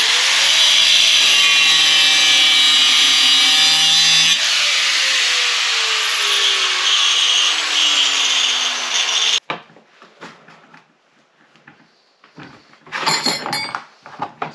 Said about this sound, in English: So I'm gonna cut these.